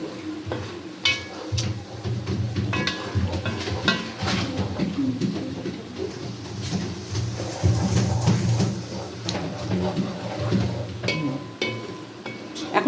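Spices and coriander-cumin are stirred with onions frying in a pan, giving a steady sizzle with scraping and clinking of a utensil against the pan, and a voice briefly in the background.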